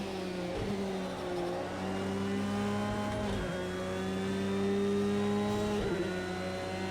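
A Porsche 911 GT3 R race car at Brands Hatch in Project Cars 2, its engine droning loud and steady close up, pitch climbing through gears with brief dips at each shift.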